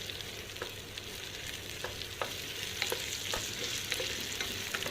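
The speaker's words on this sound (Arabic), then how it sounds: "بصوا حبايبي خلاص انا شوحت الرز كده، حطيت معلقه الكركم اللي قلت لكم عليها اهي" Rice being stirred and sautéed with turmeric in a pot for chicken kabsa, giving a steady soft sizzle with scattered scraping clicks of a spoon, close and alone.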